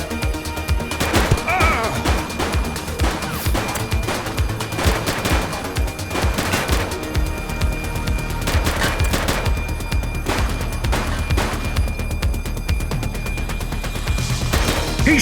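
Gunfire erupts in the police video game The Precinct, with rapid bursts and single shots cracking over a constant loud mix of game sound and music for the whole stretch.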